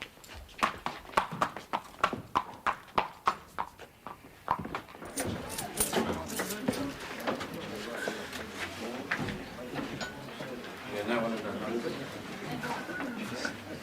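Steady horse hoof clip-clops on a hard surface, evenly paced, then people start talking and a busy murmur takes over while the hooves fade under it.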